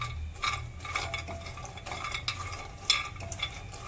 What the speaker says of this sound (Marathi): तोपर्यंत याला असं हलवतच राहायचं, चम्मच फिरवतच राहायचा यामध्ये